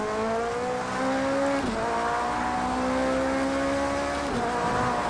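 Porsche 919 Hybrid racing at the Nürburgring Nordschleife in Project Cars 2, a loud, close engine howl that climbs in pitch, then drops sharply twice on downshifts.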